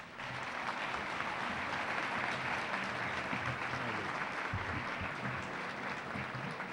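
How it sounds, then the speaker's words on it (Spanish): Warm, steady applause from a large audience at an international constitutional law congress, a dense even wash of many hands clapping that continues without a break for nearly seven seconds. "yo quisiera que todos ustedes recibamos al doctor Cárdenas con un fuerte aplauso de agradecimiento"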